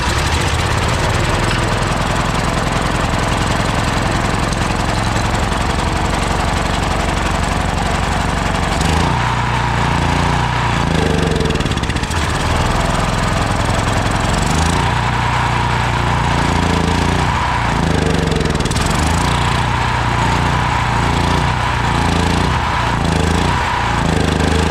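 Generator engine fitted with a Chinese carburetor running loudly and roughly, a steady chugging drone that turns uneven and pulsing partway through, close and without talk.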